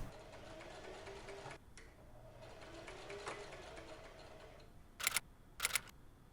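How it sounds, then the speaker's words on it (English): A sewing machine stitches a seam with back tacking on a men's shirt being refashioned. A soft steady whir runs with a short break, then two sharp, brief bursts sound near the end, with no talk. "Sew over the gap to the second seam and back tack again."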